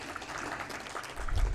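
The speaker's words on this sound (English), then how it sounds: "A round of applause, ladies and gentlemen." Audience applause at a civil society conclave valedictory event, fairly soft scattered clapping with a low rumble swelling near the end.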